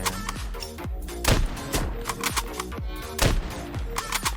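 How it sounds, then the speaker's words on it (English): Gunfire from computer-controlled bots in a Godot-built shooter game: rapid, loud, repeated shots in quick bursts, each crack dropping into a booming tail, with no pause over a few seconds. "we're already taking a lot of fire"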